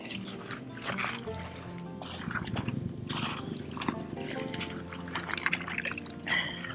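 A rock washed in Yellowstone River water gives soft splashing, dripping and trickling for several seconds, close by and fairly quiet.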